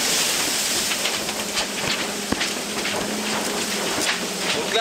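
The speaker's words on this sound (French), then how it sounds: "c'est la tempête. Changement de décor à bord de PRB." Aboard the sailing yacht PRB in a storm north of the Azores, wind at 33–34 knots and rough sea make a continuous loud roar, with a single sharp thump midway.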